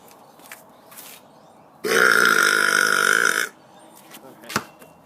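A person gives one long, loud, drawn-out burp lasting well over a second, close to the mic, framed by soft breathy sounds and a sharp tap afterward.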